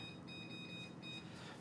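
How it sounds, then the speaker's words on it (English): A kitchen timer gives faint, high, repeated electronic beeps as it is switched on, heard alone over a low background hum. "Turn timer on."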